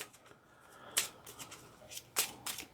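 Playing cards shuffled by hand during a Marvel Champions card game, heard as quiet riffling bursts and brief snaps recurring close by, with no talking.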